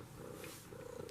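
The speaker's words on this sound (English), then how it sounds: "I'm sorry if you can hear him purring very loudly." A steady, continuous cat purr rumbles loud and close throughout.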